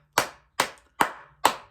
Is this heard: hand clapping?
yes